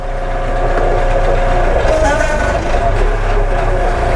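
A Baumalight MP560 mulcher runs off the PTO of a power shuttle tractor. A loud, steady engine and driveline drone stays close and constant throughout.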